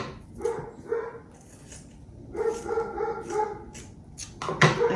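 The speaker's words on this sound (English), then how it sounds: "you hear her dog barking" A dog barks in short separate bursts, a few spaced yips and barks over several seconds, heard indoors at moderate distance with a sharper bark near the end.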